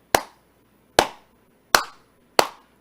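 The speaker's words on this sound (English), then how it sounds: "clap for Donald Trump" Four sharp, isolated hand claps spaced roughly evenly over a few seconds, close and crisp, each with a quick decay and silence between, offered mockingly for Donald Trump.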